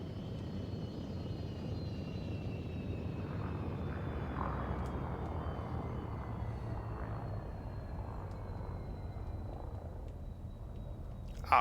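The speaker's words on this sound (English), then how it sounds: "Absolutely love the sounds that the Asp makes." Asp spaceship engine in Elite Dangerous throttling back, a steady loud droning whir like a propeller plane, with a faint high whine gliding slowly downward throughout and a brief louder burst at the very end.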